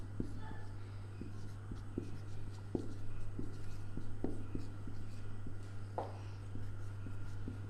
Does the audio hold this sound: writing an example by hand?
yes